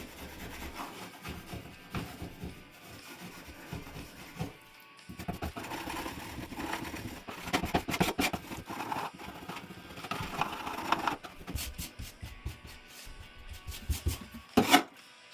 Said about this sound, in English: So now we've got this scraped and smoothed out pretty well.